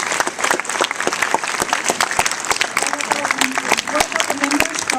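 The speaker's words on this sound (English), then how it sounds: "Please give them a round of applause." Audience applause at a school presentation, dense steady clapping from a crowd filling the whole stretch at even loudness.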